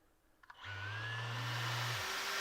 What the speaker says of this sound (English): I'm hooked up to a dust extractor.